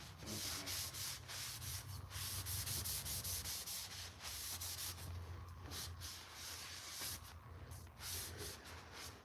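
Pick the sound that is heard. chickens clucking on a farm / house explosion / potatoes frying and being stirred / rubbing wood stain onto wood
rubbing wood stain onto wood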